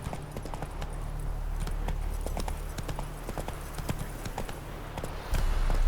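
Hooves of a horse clip-clop in a steady galloping rhythm in The Witcher 3, close and continuous over a low game ambience, with a brief louder swell near the end.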